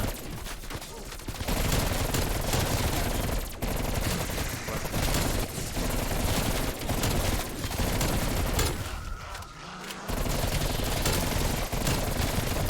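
Rapid automatic gunfire in the video game Call of Duty: Black Ops Cold War, dense sustained bursts with short pauses, loud and continuous across the stretch, with no talking.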